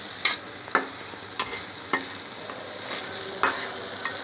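A ginger-garlic spice paste fries in a pan, sizzling steadily under repeated scraping stirs that come in a loose rhythm roughly every half second, close and clear.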